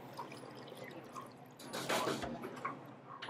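Water is poured into a cooking mixture to thin it out, a faint, short trickle and splash near the middle against quiet kitchen background.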